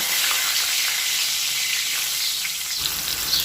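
Boiled potatoes fry in hot oil in a pan with a loud, continuous bright sizzle that stays steady throughout, with no voices.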